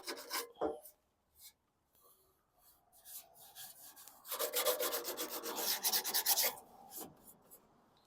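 Sanding a metal MTD mower deck produces close, rasping strokes, first sporadic and short, then a sustained run of rapid scrubbing that fades near the end.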